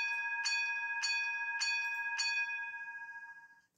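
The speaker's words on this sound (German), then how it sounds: "Auf F3 die Glocke" A bright electronic bell from a Märklin V90/294 diesel locomotive model with an ESU LokSound 5 decoder rings four times at an even, steady pace, each strike ringing on with a sustained tone that fades after the last.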